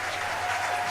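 Audience applause fills a hotel ballroom at the 2016 SFWA Nebula Awards banquet at the Palmer House, a dense, steady wash of many hands clapping for a just-finished performance, heard alone for about a second.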